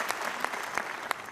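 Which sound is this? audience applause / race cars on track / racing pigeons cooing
audience applause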